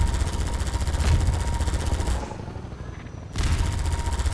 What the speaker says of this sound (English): I can't interrupt their gunshots